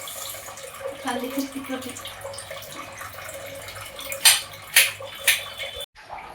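Tap water runs steadily at a kitchen sink while onions are cut, with someone speaking briefly over it and a few sharp clinks of dishes or a knife near the end.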